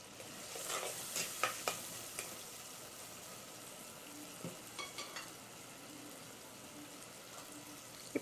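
Tomatoes sauté in a pan for rasam, a faint steady sizzle under scattered soft scrapes and taps of a stirring spoon, quiet and fairly close.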